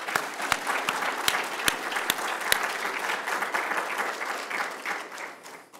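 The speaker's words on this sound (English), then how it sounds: "let's give them a round of applause" Audience applause at an afternoon distinguished lecture honoring Anne and Lauren Kieve, a dense, steady clapping from a crowd that carries on for several seconds before gradually thinning out.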